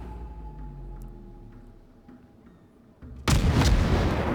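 Heavy naval guns booming in World of Warships, a single sudden loud broadband blast after a few seconds of low engine and ambient hum, sustained rumble following.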